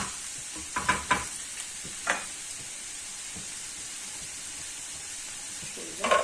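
Meat browning in a pan for saç tava, a steady faint sizzle with a few louder stirring knocks and scrapes near the start and end, no talk.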